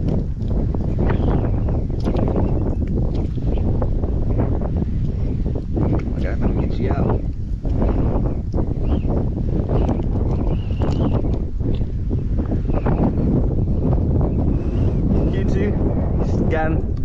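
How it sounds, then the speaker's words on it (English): Strong wind gusting across an open marsh, a steady loud roar buffeting the microphone throughout, with people talking over it. "That wind starting to pick up good."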